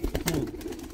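A brief low coo from Andhra high-flying pigeons in a loft, close and fairly loud, cut off after about a second.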